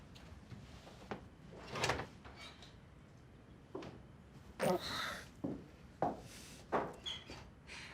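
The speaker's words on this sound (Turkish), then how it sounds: "Açsana kapıyı." A door being opened in an indoor drama scene: a series of quiet clunks, slides and latch knocks spread across several seconds, with little else around them.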